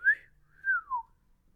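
A voice imitates a train whistle with two rising-and-falling whistled tones, the first short and sharp, the second longer and sliding downward, close and clear against quiet.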